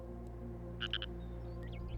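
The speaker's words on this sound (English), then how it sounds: "I think it's a frog." A frog croaks outdoors about half a mile from water, three quick, faint croaks in a row over a steady low background drone.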